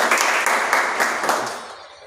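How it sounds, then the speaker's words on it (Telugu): Burst of applause from a gathering welcoming a newly announced media in-charge at a political district committee meeting, dense clapping that swells briefly and then fades out within two seconds. "వారికి చప్పట్లతో స్వాగతం"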